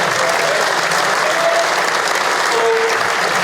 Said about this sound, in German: big applause for Derek